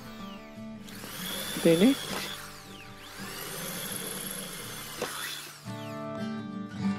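A Doliz BA632 drill boring into iron with a metal bit, whining steadily through two long runs with a brief stop between and a final short burst, with someone talking over it.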